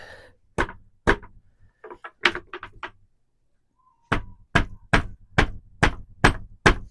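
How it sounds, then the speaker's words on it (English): Sharp, hard taps from a rubber hammer on the bridge of a BC Rich Bronze Series guitar strike in two runs, first uneven and then a steady series of about eight close, loud knocks separated by a pause. "That's why we use the rubber hammer"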